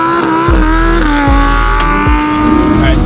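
A Lamborghini launches and accelerates hard across a frozen lake, the engine roaring close and loud as it climbs through rising revs with quick gear changes.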